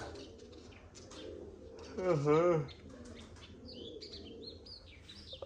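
Pigeons in a village pigeon loft in Raike Kalan give a short burst of low, warbling coos with faint wing flaps and chirps, while people talk softly nearby.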